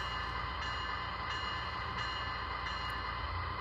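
An MTH Christmas toy train's electronic bell rings in a steady, evenly repeating pattern, loud and continuous over a constant hum, with no voices.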